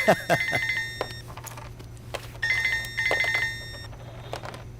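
A phone rings in repeated electronic trilling bursts, pausing between rings, while a voice speaks briefly nearby.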